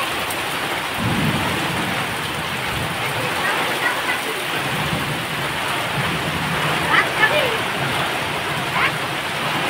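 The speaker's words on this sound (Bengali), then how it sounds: "এই যে দেখো বৃষ্টি শুরু হয়ে গেছে" Heavy rain pours down steadily in a full thunderstorm, with low thunder rumbling through the downpour and no voices.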